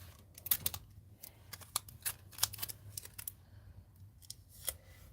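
Tape being pulled and pressed down over a stencil on Bristol paper, a quiet run of sharp crackling rips and taps at an irregular pace, heard up close with no talking.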